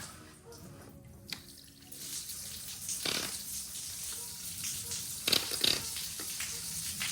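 Water trickling and gurgling into an underfloor heating circuit as it is filled and purged of air, faint irregular flowing with small splashes and bubbling.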